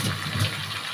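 Water is poured into a bowl in a home kitchen, making a brief, steady gushing splash with no voices.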